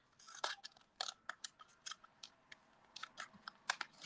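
Scissors trim paper at close range in a paper-crafting session, a quick series of crisp snips with short pauses between them.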